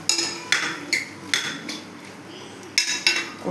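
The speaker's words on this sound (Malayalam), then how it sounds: "പെട്ടെന്ന് മാങ്ങ ഇതേപോലെ ഇളക്കുക. ഇളക്കി എല്ലാം കൂട്ടി യോജിപ്പിക്കുക." A spoon stirs mango curry in a metal pot, giving about eight sharp clinks and scrapes in a loose irregular rhythm, close and fairly loud, with no talking.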